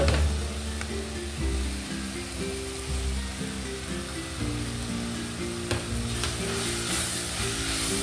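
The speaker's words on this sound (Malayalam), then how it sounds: "ഇനി നന്നായിട്ട് വഴറ്റി കൊടുക്കാം." Onions and tomatoes sautéing in a pan for a chicken curry, a soft steady sizzle with occasional stirring knocks and scrapes, close but fairly quiet and unbroken by speech.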